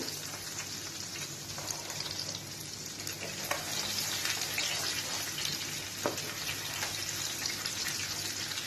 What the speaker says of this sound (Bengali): আস্তে আস্তে সবগুলো লাল করে ভেজে নিতে হবে